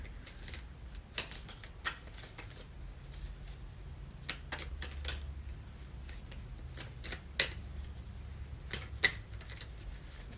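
Cards are shuffled by hand for a psychic reading, a run of close, crisp riffling flutters and soft slaps repeating over several seconds against a quiet room hum, no speech.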